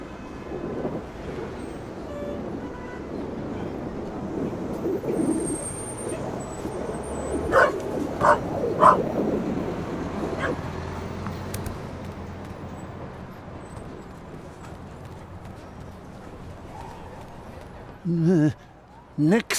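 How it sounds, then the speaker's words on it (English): A dog barks in a few sharp bursts around the middle of a game scene from The Raven: Legacy of a Master Thief, then yips twice near the end, with speech present and a low rumbling bed beneath. "Good dog."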